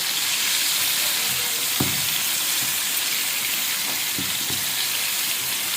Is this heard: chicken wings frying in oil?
yes